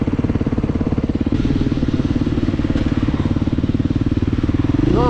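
A Husqvarna 450 supermoto motorcycle runs steadily close by at a gravel pit, its single-cylinder engine a loud, even pulsing throb that climbs briefly at the very end, with no voices.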